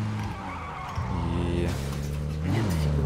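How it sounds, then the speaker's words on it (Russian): A vehicle drifting in PUBG, its engine droning loud and steady while the tires skid and squeal across the surface, heard up close with no talk over it. "чекай, дрифт."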